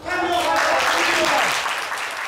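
Audience applause at the finale of a holiday contest show, a dense wash of clapping with voices mixed in, steady and loud for about two seconds before easing slightly.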